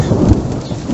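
Thunder rumbles loudly through a heavy rainstorm at an outdoor tiny house wall-framing build site, a deep continuous roll with steady rain hiss and no talk.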